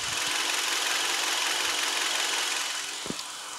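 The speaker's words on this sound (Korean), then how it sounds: "일단 엔진 소리 한번 들려 드릴게요" A 2010 Kia K5 2.0 Luxury sedan with about 157,000 km idles quietly, recorded close up. The engine gives a smooth, steady hum with a faint tick now and then, and no voices are heard.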